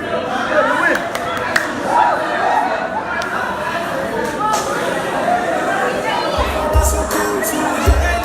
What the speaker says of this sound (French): Est-ce que vous avez fini d'applaudir, cher public?